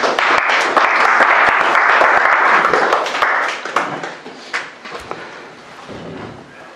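A church congregation gives loud, dense applause in acclamation of Jesus, then it thins into scattered, fading claps and a few knocks near the end.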